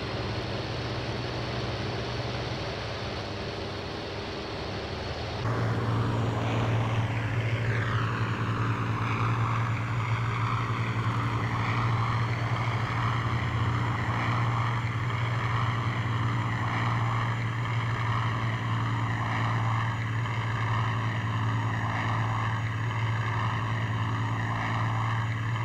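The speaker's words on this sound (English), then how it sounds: "I set full throttle and proceeded to gather up speed." A piston aircraft engine in the IL-2 1946 flight game drones steadily, then surges louder to full throttle for takeoff with flaps down, holding a continuous, throbbing roar with a slow wavering pulse.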